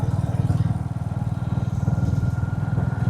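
Motorbike engines rumble nearby on a road through Lawachara evergreen forest in Sreemangal, a loud, even throbbing drone that continues without a break.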